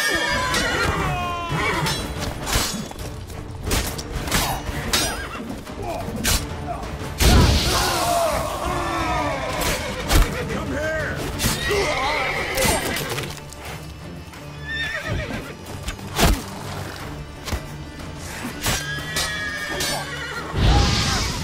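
Horses neigh and whinny repeatedly amid a chaotic battle in the video game The Witcher 3, with shouting, clashing impacts and hoofbeats mixed in, loud and busy throughout.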